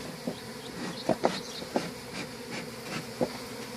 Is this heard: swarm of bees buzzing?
yes